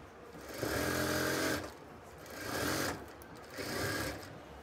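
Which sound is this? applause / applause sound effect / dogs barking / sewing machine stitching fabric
sewing machine stitching fabric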